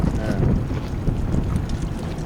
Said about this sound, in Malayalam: ഒരു ബോട്ട് പോകുമ്പോഴാണ് എങ്ങനെ ചാടി ചാടി പോണത് അതിന്റെ ആ തിരമാലക്കെ